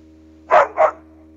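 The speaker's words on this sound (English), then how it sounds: "it was a dog barking" An AI-generated dog, made with AudioGen, barks twice in quick succession, two short loud barks alone over a faint steady electronic hum.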